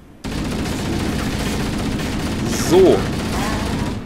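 Sustained, dense gunfire from the Halo CE Anniversary video game fills the scene as a loud, steady barrage with a brief swell near the end; a voice briefly speaks over it.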